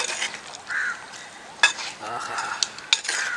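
A thick country chicken curry is stirred in a pot, with a spoon scraping and clinking against the metal in irregular close strokes and a few sharp taps. A voice gives a brief exclamation.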